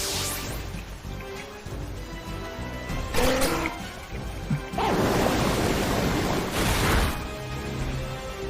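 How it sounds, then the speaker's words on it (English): Muddy Water move in a competitive Pokémon video game battle, a loud rushing, crashing water surge that swells in several broadband bursts with a sustained wash of splashing noise, no talking over it. "Muddy water might be the greatest move of all time."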